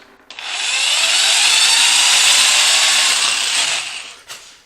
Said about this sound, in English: I'm gonna drill back the other way.